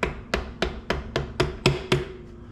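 Mallet gently tapping parts into a Bafang M620 e-bike mid-drive motor, seven evenly spaced sharp knocks with a slight metallic ring, close and clear with no talk.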